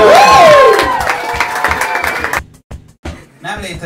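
Applause and cheering from an audience at a slam poetry championship in Kolozsvár, loud and dense at first, then thinning into scattered claps with brief quiet gaps and voices.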